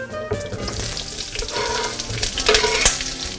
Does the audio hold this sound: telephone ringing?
no